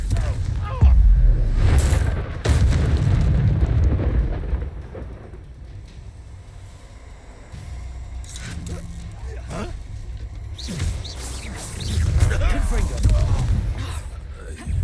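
Confringo blasting-spell explosions burst in the Hogwarts Legacy video game, with deep booming hits and crackling magic effects amid combat, mixed with game voices and effects.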